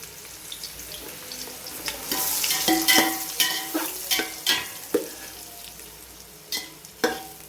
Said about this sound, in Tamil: வெங்காயம் நல்லா பொன்னிறமாக நல்லாவே வதங்கணும், ப்ரௌன் கலரில் வரணும்.